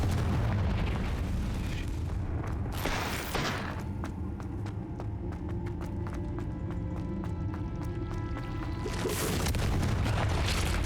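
Confringo fire-blast spells exploding in the video game Hogwarts Legacy, heard as heavy, loud booming blasts over a constant low rumble, with sharp crackling impacts scattered through the span and a renewed surge near the end.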